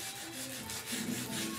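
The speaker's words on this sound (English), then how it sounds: "I'm going to get in here and sand this" Sandpaper rolled over its edge into a small improvised block rubs across a curved car body panel, making a quiet, steady scratchy rasp with slight rhythmic strokes and no talking.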